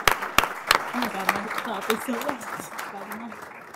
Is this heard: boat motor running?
no